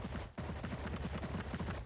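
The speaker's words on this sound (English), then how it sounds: "I hear some gunshots." Rapid bursts of automatic gunfire in a video game, a steady rattling stream of shots after a brief pause, fairly quiet in the mix.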